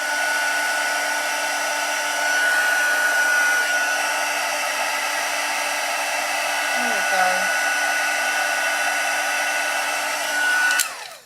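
A handheld heat embossing tool blows steadily as it melts silver embossing powder on a card, a constant close fan whine like a hair dryer that runs unbroken and cuts off at the end.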